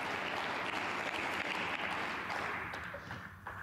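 A snooker crowd at the German Masters claps warmly and steadily, a full, even wash of applause that slowly thins toward the end.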